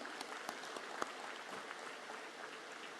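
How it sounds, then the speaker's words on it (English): Audience applause at an entrepreneurship summit in a large hall, a faint distant wash of clapping with a few sharper claps near the start. "could we have a louder round of applause for Sir"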